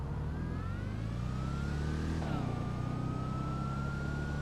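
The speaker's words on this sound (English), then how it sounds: "This car sounds great idling, has that nice V8 sound, and has a supercharger whine" A supercharged V8 car idling in the GTA Online video game, a steady low engine rumble with a thin rising and falling supercharger whine layered above it, close and continuous with no talking.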